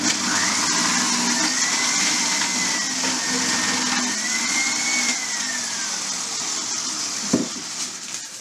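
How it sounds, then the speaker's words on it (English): A food processor runs steadily while chopping carrots, onions, peppers and mushrooms for a shepherd's pie, giving a continuous whirring motor drone with shifting pitch, close and loud, then a brief knock near the end. "he's using the food processor, and he will do all the onions in that shortly"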